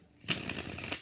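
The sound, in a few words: shuffling tarot cards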